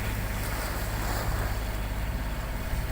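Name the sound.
sailboat motoring under engine power at sea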